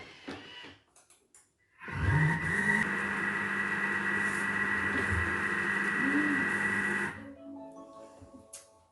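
A kitchen robot whirs at speed 3 as it blends fruit into soft-serve ice cream with the lid closed: a loud, steady motor drone starts abruptly, holds for about five seconds, then cuts off to quiet.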